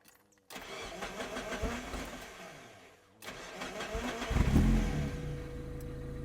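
A Mazda NB Miata engine cranks briefly, cuts out in a hiccup, then cranks again and catches, revving up and settling into a steady idle, close and loud.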